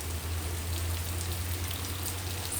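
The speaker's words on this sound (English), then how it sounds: "This is the type of rain that grows stuff." Gentle, steady rain falls in a continuous soft hiss, a growing-season shower with no voices, backed by a low constant hum.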